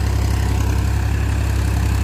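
A tractor engine idles steadily at close range, its deep, even low rumble continuous throughout with no voices over it.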